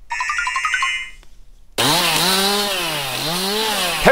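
A chainsaw cuts a chestnut tree felled by a typhoon on a farm, a loud, steady buzzing whine with wavering pitch that kicks in abruptly after a short musical jingle and runs continuously to the end.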